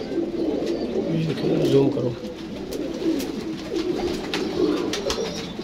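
Golden pigeons cooing in a rooftop loft, low rolling coos repeating close by while someone talks over them throughout.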